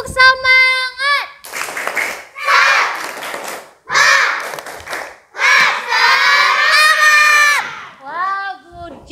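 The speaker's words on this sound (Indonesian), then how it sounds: "Ayo, tepuk semangat." A class of fifth-grade primary schoolchildren claps and cheers together in a classroom, with loud bursts of group clapping mixed with shouting voices. An adult voice is heard at the start and end.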